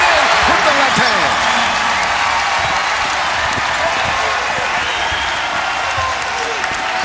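A college basketball crowd at VCU at Davidson erupts into loud, sustained cheering and applause after a left-handed layup off the glass, with a commentator's voice talking over the roar.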